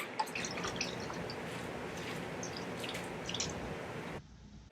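Mustard and Worcestershire sauce pour into a pot of barbecued baked beans with soft, close drips and wet squishing that continue steadily for a few seconds before stopping.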